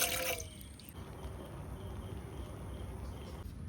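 Water is poured onto jaggery in a pan to melt it: a brief splash at the start, then a soft, steady trickle that stays faint and close.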